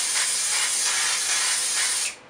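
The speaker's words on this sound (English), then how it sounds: "So take the can about can length away from your head and just spray." A steady, close hiss of an aerosol hairspray can, held about a can's length from the head, sprays for about two seconds, then cuts off abruptly.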